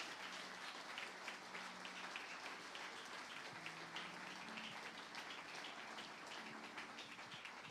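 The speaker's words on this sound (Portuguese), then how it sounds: "Vamos dar uma grande salva de palmas a Jesus" A church congregation gives sustained applause during a Portuguese-language service, a soft, dense patter of many hands under faint background tones, steady for the whole stretch.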